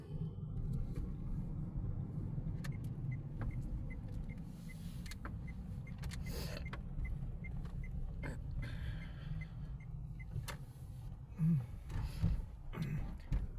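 A car driving toward a petrol station, steady low engine and road rumble from inside the vehicle, with scattered faint clicks and knocks over it.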